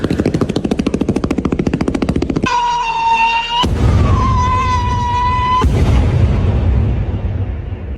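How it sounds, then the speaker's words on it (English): Strobe fireworks crackle in a rapid, loud, steady burst of pops. Whistling tones and heavy booming detonations follow, with no voices. "Strobe fireworks."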